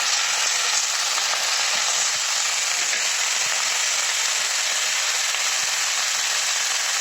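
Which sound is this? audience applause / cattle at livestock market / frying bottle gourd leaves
frying bottle gourd leaves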